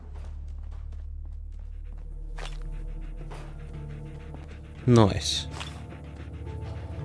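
A dog in the video game Fallout 4 pants rhythmically and close by under quiet ambience, with footsteps and a brief loud burst near the end; someone speaks briefly.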